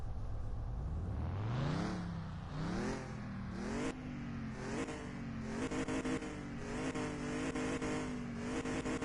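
A car engine in Car Mechanic Simulator 2021 revs hard several times toward about 9,500–10,000 RPM, each rising whine climbing then dropping, sounding rough and low on power, loud and close with no talking.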